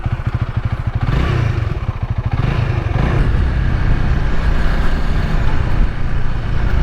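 A Honda Rebel 300 motorcycle engine while riding, a loud, close, continuous throbbing exhaust note whose pulses quicken as it accelerates, then settling into a steady roar mixed with wind and road noise.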